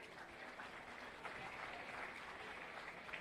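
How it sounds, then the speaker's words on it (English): Outdoor crowd at a 4-H dairy show claps for young exhibitors, a steady, moderately faint patter of applause sustained throughout with little else beneath it. "We'll give all these young ladies and men a round of applause."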